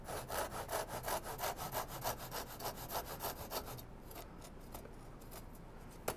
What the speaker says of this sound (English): I'm going to bring the saw in from the side